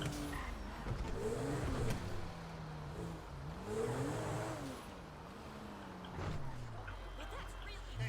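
A car driving through the streets of Los Santos in GTA V, its engine rising and falling with gear changes and revving, heard up close at moderate level with light game ambience.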